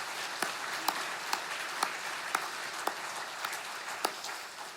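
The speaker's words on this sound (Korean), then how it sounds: "부활하신 주님께 온 마음을 담아서 감사와 영광의 박수 올려드립니다" A church congregation at an Easter service applauds in a dense, even wash of clapping with a few sharper claps standing out, moderately loud throughout.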